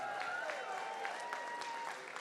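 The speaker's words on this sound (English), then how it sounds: "Big round of applause for doing that." Audience at a youth academy charity auction gives a short, steady round of applause, heard at a distance at moderate volume, with some indistinct voices mixed in.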